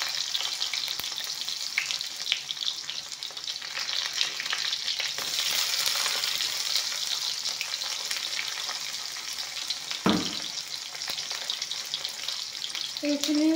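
Onion and garlic fry with panch phoron in hot oil, giving a steady, close sizzle with occasional stirring scrapes and a single thud partway through, while a voice speaks faintly at the end.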